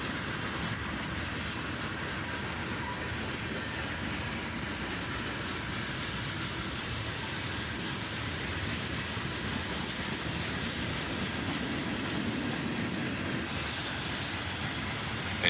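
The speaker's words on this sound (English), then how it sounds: "a high and wide load on the front end with a heavyweight flat car carrying a transformer" A freight train rolls steadily past, including a heavyweight flat car carrying a transformer as a high and wide load; a continuous loud rumble and rattle of wheels on rail with faint clickety-clack, no voices.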